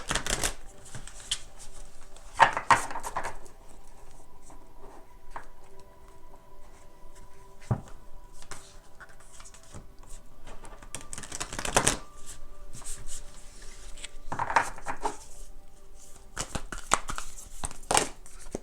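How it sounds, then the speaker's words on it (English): Large tarot cards are shuffled by hand in riffling bursts and soft sliding rustles, close by, with quiet pauses between the louder shuffles. "I do shuffle pretty well."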